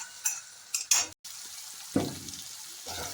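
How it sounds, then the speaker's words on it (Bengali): Spice masala with salt and turmeric is stir-fried in a pan. Several sharp scrapes and clinks of a spoon against the pan sound out over a soft sizzle, close by. There is a brief dropout partway through. "মশলাটাকে কষতে হবে"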